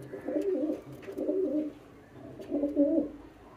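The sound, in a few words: pigeon cooing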